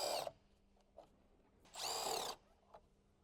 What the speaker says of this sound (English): Use a 10mm socket to remove the battery bracket hardware.